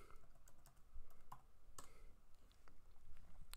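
Someone types a search on a computer keyboard, producing a few sparse, close key clicks at an uneven pace in an otherwise quiet room.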